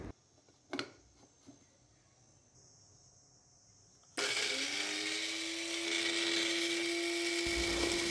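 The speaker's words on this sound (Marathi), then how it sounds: "याच्यात मी आलं लसूण जिरं मिक्सरमध्ये थोडं फिरवून घेते।" After a few faint clicks in a quiet kitchen, a mixer grinder loaded with ginger, garlic and cumin starts up into a loud, continuous whirring roar whose motor pitch climbs and then holds steady.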